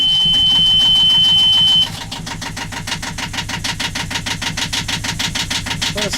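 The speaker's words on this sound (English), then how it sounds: "I'm going to start the engine up and just check that there's water coming out of the back." An old, roughly 40-year-old boat engine in neutral cranks with a steady whine, then catches and settles into a close, rhythmic idle with an even, rapid chug.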